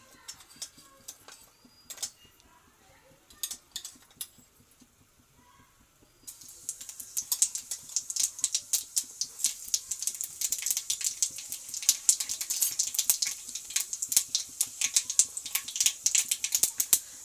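Panch phoron spices hit hot oil in a wok, after a few light taps, setting off a sudden, steady crackle and fast sputtering pops that continue close up and fairly loud.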